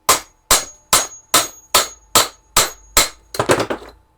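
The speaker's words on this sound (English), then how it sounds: "Give it a couple more hammer blows." Repeated hammer strikes on a lawnmower engine part, eight sharp evenly spaced metallic blows about half a second apart, then a quicker cluster of rattling hits at the end, loud and close with no talk.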